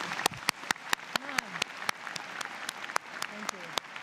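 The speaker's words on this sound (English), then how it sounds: "I think we owe Dr. Baker another great round of applause" A convocation audience gives Dr. Baker a round of applause, heard as a fairly sparse clapping with a few hands standing out and louder individual claps, with voices faintly in the background.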